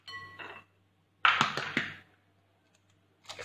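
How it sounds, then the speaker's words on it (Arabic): Eggs cracked one after another against a bowl while preparing breaded chicken cutlets, giving a few sharp, close cracks and light clinks in a quick cluster, with a softer tap before and after. "نكسروا البيض"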